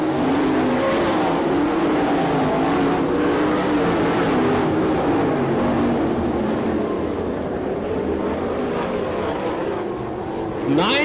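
Sprint cars in a dirt track heat race at an All Star Circuit of Champions event in Lawrenceburg, Indiana, engines roaring loudly and steadily as the pack circles, with a commentator talking over them.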